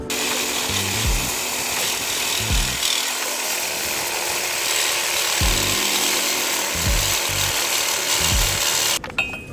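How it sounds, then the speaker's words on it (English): A Sawzall reciprocating saw cuts through the drive shaft bolts of a 2015 8V Audi A3, making a loud, continuous buzzing rasp that pulses in rough rhythmic strokes, close up and alone until it cuts off near the end. "After failing at sawzalling it."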